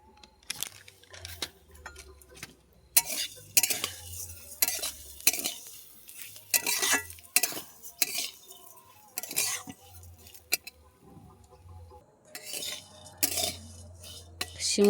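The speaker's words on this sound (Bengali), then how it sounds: "সিমুইটাকে হালকা লাল লাল করে ভেজে নেব।" Packet vermicelli being stirred and fried in a pan, repeated metal spoon scrapes and clinks against the pot in uneven bursts over a faint sizzle, close and fairly loud, with a few quiet gaps between strokes.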